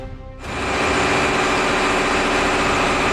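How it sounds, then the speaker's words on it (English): A CAT 994K wheel loader, a giant mining loader that moves 45 tons a scoop, idles on a haul road: a loud, steady, low engine rumble that swells in after a brief quieter start and holds constant. "The 994K idles in"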